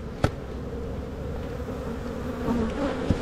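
Honey bees buzz around a hive in a beeyard with a steady, dense, close drone, marked by a couple of sharp knocks from the hive boxes.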